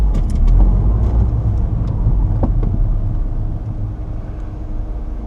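A car driven hard on a training run, braking and turning, gives a loud, close engine and road rumble that holds steady, then drops slightly near the end.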